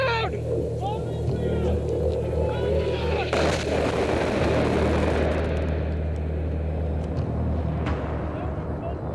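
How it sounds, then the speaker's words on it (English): Continuous heavy combat noise with rumbling explosions and gunfire from incoming bombs and artillery, loud and dense throughout, with shouting voices mixed in. "Bombs inbound!"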